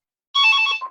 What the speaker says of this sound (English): Oops, this phone's ringing.